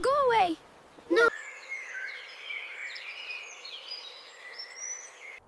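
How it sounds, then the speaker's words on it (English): A small bird chirps and tweets faintly and steadily in the background for several seconds, following a short burst of speech at the start. "Chirp, chirp, chirp."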